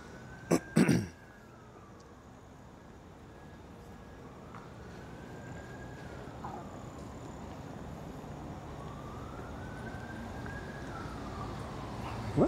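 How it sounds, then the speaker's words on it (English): An emergency vehicle siren wails in slow rising and falling sweeps, distant and faint, heard outdoors during a walk in a park after a couple of coughs at the start. "Must be pretty close because I still hear the siren."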